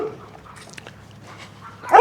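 Dogs on a rural Wisconsin property bark in a few short, scattered yips at a moderate distance, then one louder bark bursts close by at the very end against a quiet background.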